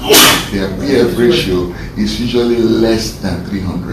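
One sudden, sharp sneeze bursts out at the start of a respiratory failure lecture, followed by a person talking steadily through the rest.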